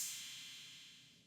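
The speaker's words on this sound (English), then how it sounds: "Next, I added in a crash cymbal." A single bright cymbal crash that washes out and slowly decays over about a second, with no other sounds.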